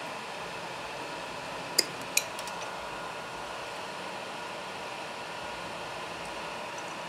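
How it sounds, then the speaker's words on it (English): Two quick, sharp snips cut through the filament hose of an Ender 3 3D printer to clear a jam, close and brief against a steady fan hum. "I have plenty of hose, so I think I'll snip this and just snip out the jam."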